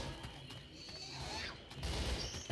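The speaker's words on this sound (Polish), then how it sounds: "Can we stop shooting each other?" Rapid bursts of Left 4 Dead 2 gunfire crackle and pop over a low rumbling backdrop, with sharp shots scattered throughout and a louder flurry near the end.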